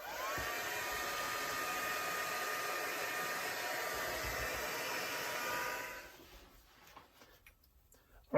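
A hair dryer blows steadily and loudly at close range while drying a painted art journal page, then switches off about six seconds in, leaving faint handling noises.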